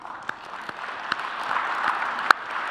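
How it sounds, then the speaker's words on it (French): Audience applause for a panel at an evening thesis event, a soft, steady patter of clapping with a few sharper individual claps standing out, building slightly toward the end. "Je vous invite à applaudir une dernière fois notre panel ici."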